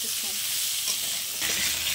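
Salted potatoes frying in shallow oil: a loud, even sizzle heard up close, swelling slightly near the end, with faint stirring and no speech.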